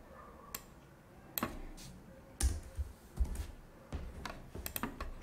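Several sharp computer keyboard key presses in an uneven cluster, the keystrokes for a copy shortcut, close and fairly quiet with no voice over them.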